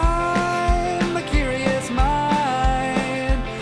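Crisp finger snaps tick in a regular rhythm, layered over a melodic song with a steady beat.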